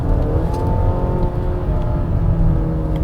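A Mazda CX-5 engine pulling under acceleration, a loud, steady, close-up drone with a rising tone that holds throughout.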